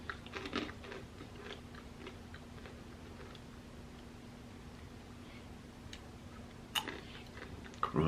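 A crunchy Hong Kong snack being chewed: soft, repeated crunching and biting sounds up close, with sharper crunches near the end and a quiet electrical hum underneath.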